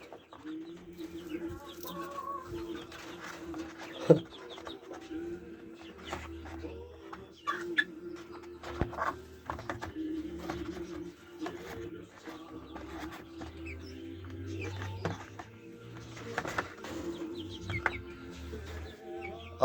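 Young hens clucking in a garden coop, soft and fairly steady murmuring with occasional louder calls and bird chatter against a low background hum.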